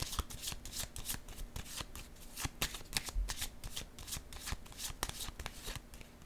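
Oracle cards being shuffled by hand before a draw: a continuous run of crisp riffling and flicking bursts, close and steady throughout, with no talking.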